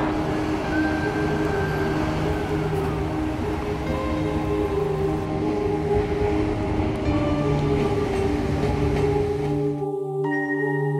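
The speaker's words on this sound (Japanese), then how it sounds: "大阪貨物ターミナル駅から貨物列車が出発します。" A JR Freight train pulls out of Osaka Freight Terminal on the Osaka Freight Terminal Line, a branch of the Tokaido Main Line, with a steady loud rumble and sustained tonal whine of motors and wheels that cuts off abruptly near the end.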